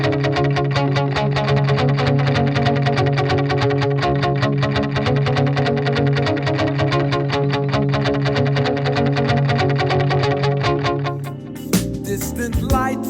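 Instrument played through an effects pedal, producing a dense, steady stream of repeated echoing notes with chorus-like shimmer, continuous and loud for most of the span before a brief shift near the end.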